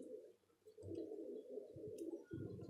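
Pigeons on a rooftop coo close by in deep, throaty rolling phrases, several overlapping calls with short pauses, quiet otherwise.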